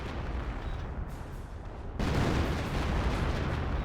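Creeping artillery barrage in a Company of Heroes match, a dense continuous rumble of shelling that swells louder partway through, with no clear separate blasts.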